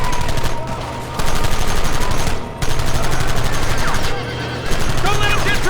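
Heavy gunfire in Red Dead Redemption, a dense fusillade of rapid shots during a wagon chase, loud and close with brief lulls between bursts, while voices shout over the shooting.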